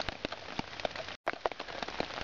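Rain patters on a tarp in the woods with a dense, steady spatter of drops, some heavier taps standing out and a brief gap in the middle.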